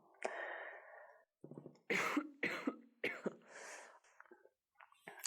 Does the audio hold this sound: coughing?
yes